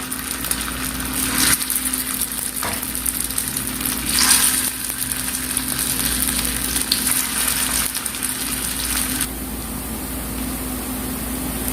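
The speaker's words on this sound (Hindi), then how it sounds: "अब हम ये टिक्कियाँ इसमें डालेंगे घी में फ्राई करने के लिए।" Potato tikkis frying in hot ghee make a steady, dense sizzle with bright crackles and spatters, loud and close, with occasional bursts of louder popping.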